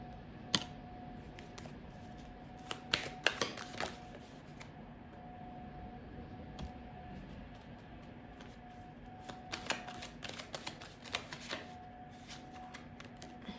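Tarot cards are shuffled quietly in close, crisp bursts of riffling and tapping, with clusters of clicks and flutters separated by quieter pauses.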